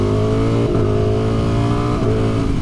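A 2020 Ducati Streetfighter V4 engine revs hard and close, a loud, snarling tone that climbs in pitch and briefly dips between gear changes before pulling up again.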